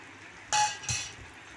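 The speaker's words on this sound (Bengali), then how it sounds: "দিয়ে ভালোভাবে নাড়াচাড়া করে নেব।" Two quick metallic knocks of a spoon against a pan while ground coriander, salt and sugar are stirred into the spice base for fish-head dal, then quiet.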